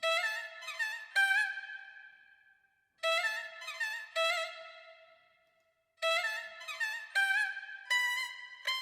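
A Jinhu, the Chinese bowed string, played as an EastWest Silk virtual instrument: bright, high sustained notes with sliding pitch bends, in three short phrases separated by brief silences, with no voices.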